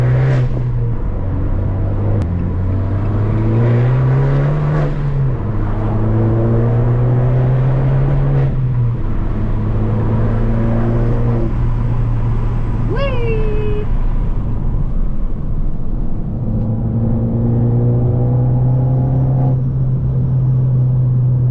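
An Abarth 595 Turismo pulls hard in second gear, its engine drone climbing steadily in pitch from inside the cabin, dropping briefly at shifts before rising again, loud and continuous, with a short high squeak partway through.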